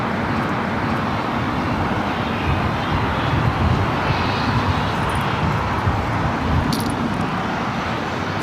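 A 757-300 airliner throttles up for takeoff on the south side of LAX, its steady, broad jet-engine roar holding loud and continuous throughout with no voices.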